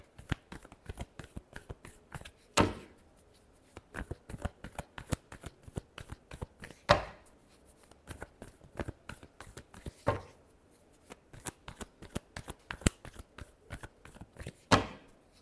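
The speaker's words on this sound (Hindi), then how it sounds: "Last shuffle." Tarot cards are shuffled by hand in repeated quick riffles, a dense run of soft, crisp flicks broken every few seconds by a sharper, louder burst as the deck is bridged, close and quiet.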